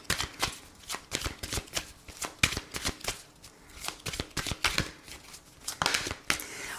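A deck of oracle cards is shuffled by hand, giving rapid repeated riffling and slapping bursts, close and moderately quiet, continuing steadily with brief pauses.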